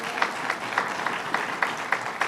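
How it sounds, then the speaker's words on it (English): Audience applause at a state governor's announcement of a construction project, a moderate, continuous rush of clapping with a few sharper claps standing out at regular moments. "give him a round of applause."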